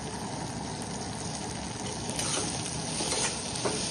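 Tomatoes and green chilli sautéing in a pan with turmeric and ground paste, giving a steady, close sizzle and frying crackle with light stirring scrapes, no talk.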